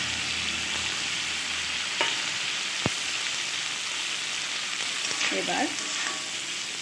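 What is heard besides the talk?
stir-frying fried pumpkin and bitter gourd with masala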